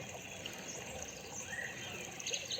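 Steady, gentle flow of water trickling and pouring, continuous and fairly faint throughout, with faint insect-like chirps in the background and no voices.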